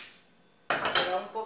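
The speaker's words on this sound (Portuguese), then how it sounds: "com uma colher de pau, vamos trazer essa mandioca. Já amassada para uma panela" A wooden spoon scrapes already-mashed cassava into a pot, giving a sudden clatter and knocking of wood against the metal pan after a quiet moment, close and fairly loud.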